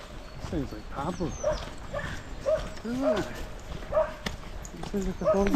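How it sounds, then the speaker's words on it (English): Several small dogs on a group walk near water bark and yip in short repeated bursts, close by, mixed with a person talking and footsteps outdoors. "Sounds like a dog."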